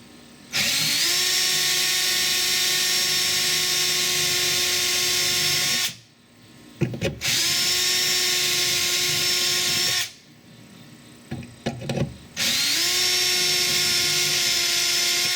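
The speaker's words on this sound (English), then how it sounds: "So I'm going to drill those out right now." A power drill bores out the rivets holding the rear door speaker of a Volkswagen Jetta Sportwagen TDI, loud and close. The motor whines in two long bursts broken by pauses with small clicks and rattles.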